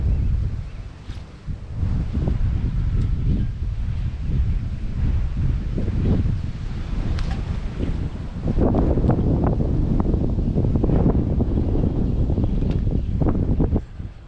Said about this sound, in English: man, this wind is relentless